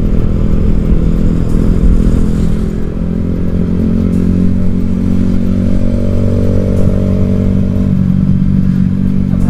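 A motorcycle on a road tour of Bangka rides steadily, its engine droning loud and close with road and wind noise the whole time, no talk over it.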